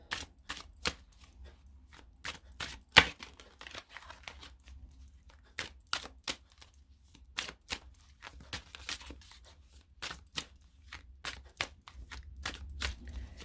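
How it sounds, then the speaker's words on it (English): Tarot cards being shuffled by hand in a quiet room, a long run of sharp, crisp riffling snaps and soft card slides repeating at an irregular rhythm, close and clear with no talking. "so let me shuffle these cards"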